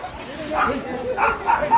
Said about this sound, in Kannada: ನಾಯಿ ನೋಡ್ರಿ